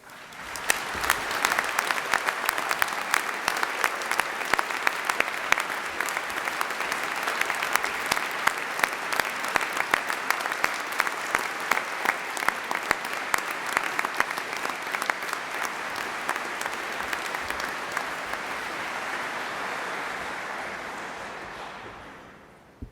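Applause congratulating graduates at an Exeter University degree ceremony, with a large indoor audience clapping steadily and densely for around twenty seconds before it tapers off.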